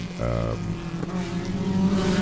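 Race cars at Sebring, among them the IT7 number 12 and the number 44, pass on the circuit during an IT, B-Spec and Touring event, engine drone loud and near with a brief rising whine as one car goes by.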